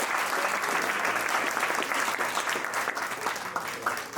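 Audience at a fall capstone project showcase applauding, a dense, steady patter of many hands clapping at moderate loudness that holds throughout with slight swells.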